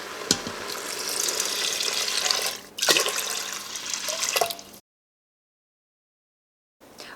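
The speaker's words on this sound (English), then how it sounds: "you can add your beans and rice and your 4 cups of liquid" Liquid poured into an Instant Pot over beans, rice and translucent onions, a steady splashing pour for several seconds, then a pause of silence before a brief return of sound.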